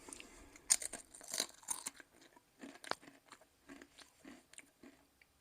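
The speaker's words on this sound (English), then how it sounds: "Live crunching." Thin Tesco own-brand crisps crunched close up, a run of sharp crisp bites and chewing crackles in an irregular rhythm, fairly quiet with no talking.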